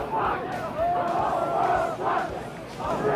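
A protest crowd at the Democratic convention chanting in unison, a loud rhythmic repeated call rising and falling in bursts of massed voices.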